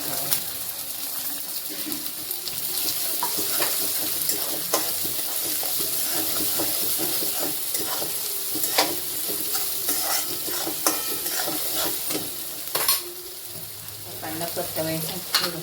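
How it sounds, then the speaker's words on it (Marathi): Chopped onion sautéing in a pan for pav bhaji, a steady close sizzle with repeated scraping stirs of a spoon against the pan throughout. "कांदा घालून परतावा."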